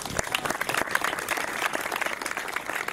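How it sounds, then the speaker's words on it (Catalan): Audience applause at a commemorative gathering in front of the old prison in Tarragona, a steady wash of many hands clapping that holds at an even level for the whole stretch with no voices standing out. "aquest aplaudiment és pel Xavier Milian"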